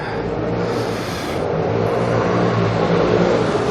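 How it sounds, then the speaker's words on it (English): A motorcycle engine rumbles steadily close by on an Amsterdam street, swelling slightly toward the end as it passes, with a constant low drone throughout. "Maybe after the motorcycle has gone by."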